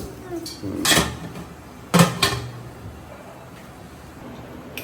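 Idli steamer pot and its metal plates set down in a home kitchen, two sharp clanking bangs about a second apart followed by a lighter clink, with quiet room noise between.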